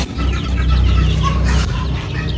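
A flock of junglefowl clucks continuously at close range, several birds overlapping in a busy, steady chatter with no talk over it.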